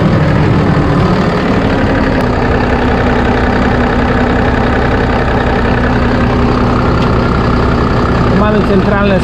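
A Case IH Puma 200 CVX tractor's FPT diesel engine idles loudly and steadily nearby, a constant rumbling drone with faint knocking throughout.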